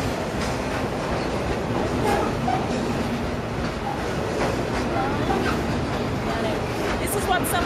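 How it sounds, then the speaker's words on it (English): An uncovered coal train rolls past in a rural community, a steady broad rumble and rattle of wagons with faint clickety-clack, continuous and fairly close for the whole stretch. "uncovered coal trains going through their community"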